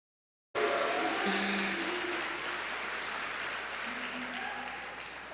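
Applause from the audience at a spring prison education program commencement ceremony, a sustained burst of clapping that starts abruptly after silence and slowly tapers, with a few voices faintly underneath.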